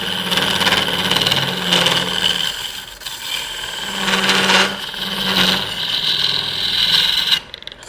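A bowl gouge cutting wood on a spinning lathe, a loud continuous whirring hum with a tonal motor drone, rising and falling in waves as the tool engages the workpiece, with no talk.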